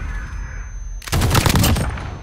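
A single sharp gunshot cracks in Call of Duty Modern Warfare after a quiet lead-in, loud and close with a short ringing tail.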